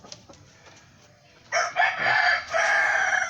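Pet rooster crowing on a farm, one loud nearby crow of about two seconds breaking the quiet, with faint clucking before it.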